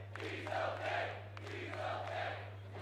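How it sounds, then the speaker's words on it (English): Crowd at a live wrestling show in Las Vegas cheering and chanting in swelling waves, fairly faint and distant over a steady low electrical hum. "You hear the crowd there."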